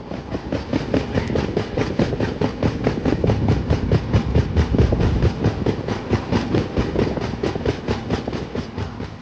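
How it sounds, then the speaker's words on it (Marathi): A moving passenger train on the Pune to Varanasi route rumbles loudly with a rapid, regular clickety-clack of wheels over rail joints, steady throughout. "आमची ट्रेन ठरल्याप्रमाणे वेळेवर निघलेली आहे"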